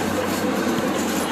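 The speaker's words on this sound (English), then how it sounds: "This train will turn around right here." An amusement park train at Indiana Beach rolls along its rails near a tunnel, a loud, steady rumble with a dense rattling hiss, heard close and without a break.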